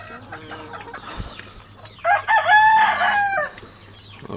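Roosters and hens, fighting-breed birds in a yard, crow and cluck nearby, with one loud, strained crow rising to dominate the middle of the clip over quieter background clucking.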